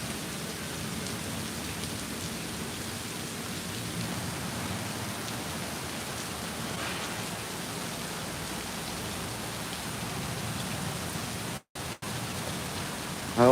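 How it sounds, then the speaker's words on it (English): Heavy storm rain pours down steadily at Disney, a dense continuous hiss of rain hitting surfaces nearby, with a faint distant rumble and no talking. "It's just it puts down so much rain."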